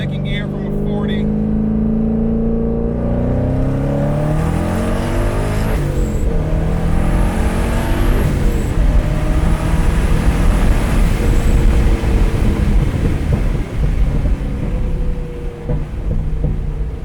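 A twin-turbo Corvette Z06 accelerates hard in second gear from about 40 mph, a loud, sustained engine roar climbing steadily in pitch with wind and road rush under occasional speech.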